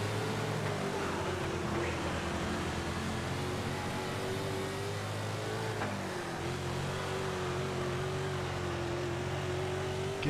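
Sprint cars racing on a dirt oval in World of Outlaws 24, a steady high engine drone with shifting pitch as the lead car holds off a rival, loud and continuous throughout.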